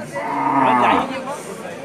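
A young local-breed bull, about a year old, lets out a single long, deep moo that swells and fades, close by, with faint background murmur from people at a cattle market.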